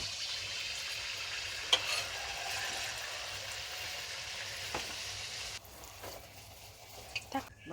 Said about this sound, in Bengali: ভাজা পিঠে বানাচ্ছি।